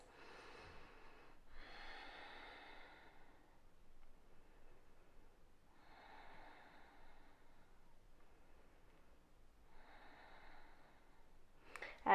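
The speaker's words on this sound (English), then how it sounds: "3 deep breaths." Deep, slow breaths during a gentle yoga flow, with several long, soft inhales and exhales spaced evenly apart and heard faintly against near silence.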